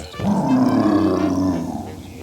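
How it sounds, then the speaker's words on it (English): A deep, rumbling dragon roar from an animated children's story sounds loud and close, swelling and holding for about two seconds before fading. "What he heard was a terrible dragon roar."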